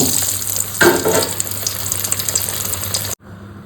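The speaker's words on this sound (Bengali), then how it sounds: "বেগুনগুলো আমি হালকা করে ভেজে নেব।" Loud, steady sizzling of eggplant frying in mustard oil in a wok, with crackling bursts early on, ending abruptly.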